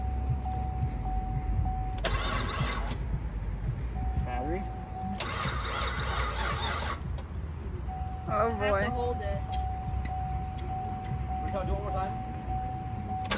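A 900HP Mitsubishi EVO with a misfiring engine gives two loud, ragged bursts of cranking and engine noise over a steady low rumble and a constant chime tone, while people talk nearby.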